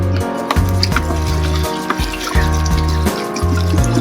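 Crushed yanang leaves are wrung out by hand for an herbal drink, giving wet squelching and dripping, trickling water in a repeating rhythm of squeezes, close and loud.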